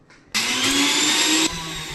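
A mixer grinder whirs loudly as it grinds onion, tamarind and rock salt in its jar, starting abruptly after a brief faint rattle, running steady and strong, then dropping to a lower hum near the end.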